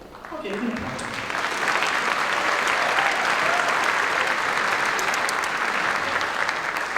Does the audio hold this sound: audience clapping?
yes